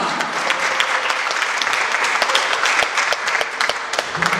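Dense applause from an audience greeting a punk band at the Punk Not Zgred Fest in Kraków, steady clapping with a few sharp claps standing out, loud and continuous throughout.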